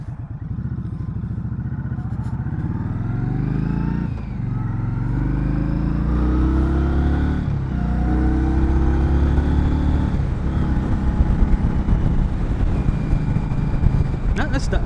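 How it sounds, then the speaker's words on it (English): A 2020 Indian Scout Bobber Sixty motorcycle engine revs up through several gear shifts, each marked by a brief dip in pitch before climbing again, loud and steady with wind noise throughout. "It's a nice, crisp transmission. You can hear it right there, let you know that you are indeed in the next gear."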